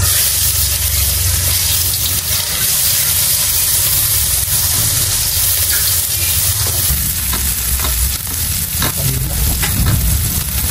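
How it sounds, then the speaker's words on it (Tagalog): Loud, steady sizzling of garlic and onion sautéing in hot oil, with occasional stirring scrapes, close up and continuous, no voices. "Ako po ngayon ay magigisa na po na itong bawang at sibuyas."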